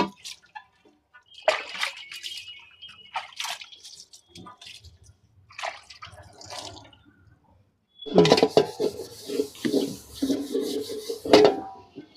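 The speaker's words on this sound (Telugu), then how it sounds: "ఇప్పుడు శుభ్రంగా ఇలాగ అన్నీ తోమేసుకుని కడిగేసుకోవాలి" Steel utensils are scrubbed and rinsed by hand, with scattered scraping and clinking strokes, then a louder stretch of running water splashing over metal pots in the last few seconds.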